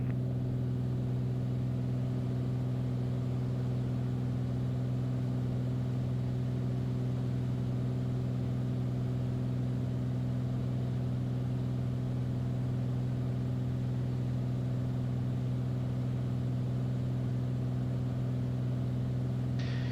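Steady aircraft engine drone inside the cockpit during an RNAV approach to runway 14R at Boeing Field, a loud constant hum with strong low tones running unbroken throughout.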